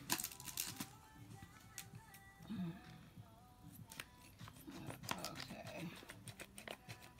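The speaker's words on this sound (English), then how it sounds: "So I am cutting along that line." Scissors snip through packaging while a music album is unboxed, giving close, sharp crisp cuts and rustling crinkles in an irregular rhythm, with no talking over them.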